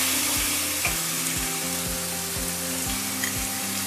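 Beef pieces fry in a hot pan for a beef chilli, giving a loud, steady sizzle with repeated scraping strokes of a stirring utensil at a regular rhythm, and no talk.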